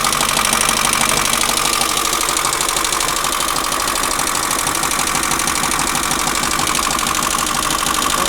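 Engine idling loudly up close with a rough, rapid puffing and ticking from what may be a holed exhaust, steady and continuous throughout.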